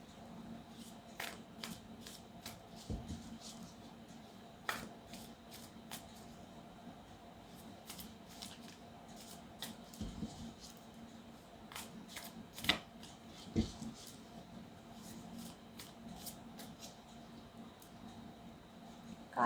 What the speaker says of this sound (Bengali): কার্ড বেছে নিচ্ছি।